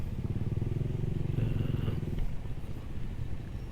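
A motorcycle engine rumbles low and steady while riding, with a throbbing pulse and faint clatter, close and continuous.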